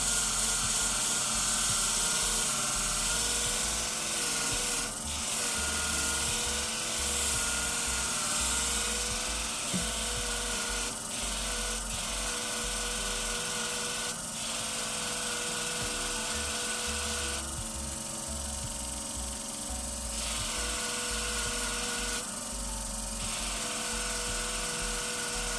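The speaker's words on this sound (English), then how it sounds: "Still a lot to grind." Curved grooming shears being convexed on a Katoku guiding system, a steady high metallic grinding whine that runs continuously and loud, with brief louder scraping surges near the end.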